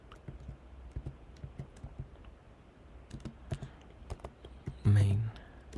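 Keystrokes on a computer keyboard entering a git push command, a quiet run of irregular clicks with a louder thump near the end and faint speech-like sound underneath.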